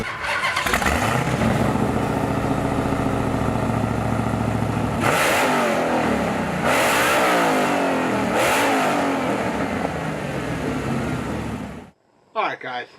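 A Dodge Hellephant crate engine rated at 1,000 horsepower roars at high revs, then blips through three sharp rising bursts before cutting off abruptly near the end.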